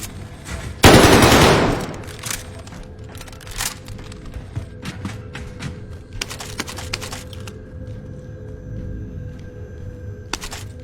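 Gunfire from a Cooper carbine in a zombie shooter, one loud close burst near the start, then scattered sharper shots and clicks over a low ambient game bed.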